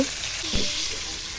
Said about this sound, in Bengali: দেখুন গোস্তগুলো আমার প্রায় ভাজা হয়ে গেছে